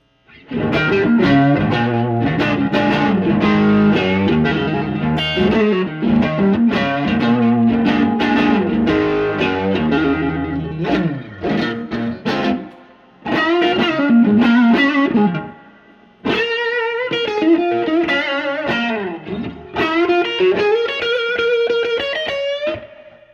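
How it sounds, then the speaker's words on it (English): 1967 Fender Super Reverb guitar amp driven by a Tube Screamer overdrive, loud distorted electric guitar riffs and sustained chords with brief pauses between phrases, no talking. "when you add drive to it, just adding a tube screamer into it, you get some of those tones"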